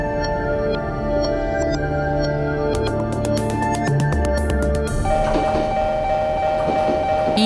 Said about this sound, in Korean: 서울 지하철 1호선 온수역.